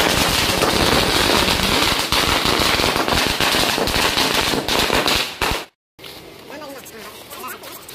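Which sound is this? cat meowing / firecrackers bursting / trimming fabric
firecrackers bursting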